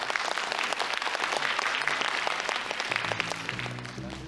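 Steady, full applause fills a concert hall as an audience at a lecture concert claps before the final piece, many hands at once, sustained and even, with a few instrument tones emerging near the end.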